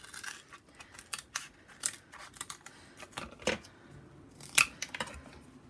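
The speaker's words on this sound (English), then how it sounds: "This is quite a chunky piece, so I'm just going to cut this down." Scissors snip through a chunky piece of scrap card for a December Daily advent tag project, a series of sharp, close crisp cuts and crunches at an uneven rhythm, with no talking.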